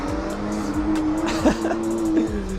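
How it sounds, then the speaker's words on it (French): Cars at a trackday rev hard and spin their tires in burnouts. High engine tones hold steady, and squeals and scrapes cut through in bursts, all at close range with no talk. "Les gens ici, ils viennent laisser vraiment exploser leurs pneus."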